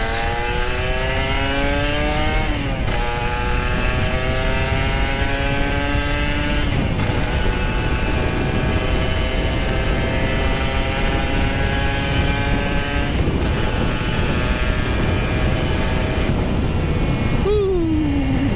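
Kawasaki Ninja RR 150 two-stroke motorcycle ridden hard, the engine screaming up through the revs in long rising sweeps broken by brief gear-change dips, loud and close with wind rush throughout.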